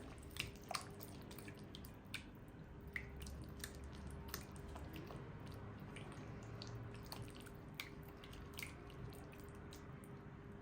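Cookie dough with apple being kneaded by hand, producing soft wet squishing and small sticky clicks in an irregular rhythm, faint and close, over a steady low background hum.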